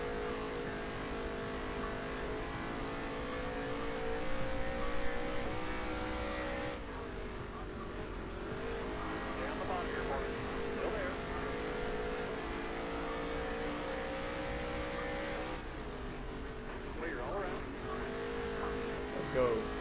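A fast car engine runs steadily and loudly with rising revving tones, harmonics shifting as it accelerates, while people talk over it throughout.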